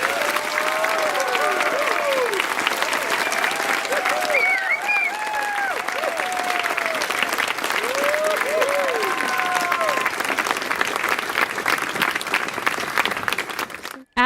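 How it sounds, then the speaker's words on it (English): Steady, full applause from a school graduation audience for the graduating class, continuous and fairly loud, with whoops and cheering cries rising above the clapping at several points before it cuts off abruptly. "Will everyone give one final round of applause to the graduating class of 2022?"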